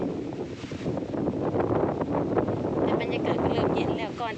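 Wind gusting across an open spot beside a lake in a mountain village, a steady broadband rush that swells and buffets the microphone throughout, with speech mixed in.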